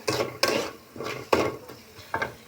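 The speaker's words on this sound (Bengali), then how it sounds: "এদিকে পেঁপের আলুগুলো একটু বেজে নিচ্ছি" Papaya and potato pieces frying in a pan, with several sharp clinks of a utensil against the pan in an uneven rhythm over a soft sizzle, close and moderately loud.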